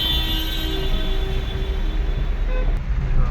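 Cars drive through a flooded street in Surat, their tyres half submerged, producing a steady low engine and road rumble with a faint whine and a soft wash of water, close and continuous.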